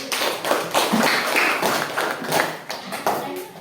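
A classroom audience applauds a student group's origami wall-decoration presentation with a burst of uneven, fairly loud clapping that continues throughout.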